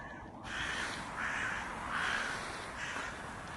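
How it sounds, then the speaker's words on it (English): Crows cawing in Denman Park, Westhill, in a steady series of harsh calls, roughly one every second, at moderate distance over a constant background hiss. "Birds live in the Denman Park."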